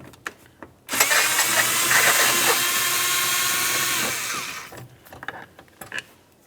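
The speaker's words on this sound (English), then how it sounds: "Use a T27 Torx bit to remove it." A power driver spins a T27 Torx bit to back out the single mounting bolt behind the rear interior door handle of a 2003-2011 Mercury Grand Marquis, a steady close whirring burst of about three seconds that then winds down.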